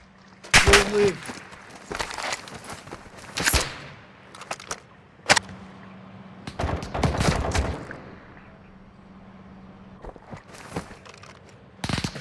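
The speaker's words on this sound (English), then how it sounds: "Taking effective fire." Bursts of gunfire from a Call of Duty DMZ match, several sharp volleys and single cracks spread irregularly across the stretch, fairly loud against a low steady hum with faint background game noise.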